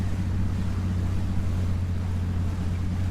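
A Holmer 600 truck pushing through deep river water in Spintires Mudrunner, a dense continuous engine drone with broad sloshing water noise, steady and close throughout.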